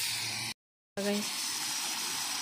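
Water gushes steadily, as if from a hose or tap, to water plants outdoors in a quiet residential village. The flow is continuous and close, with a brief dropout in the middle and faint voices in the background.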